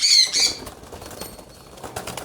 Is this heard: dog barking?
no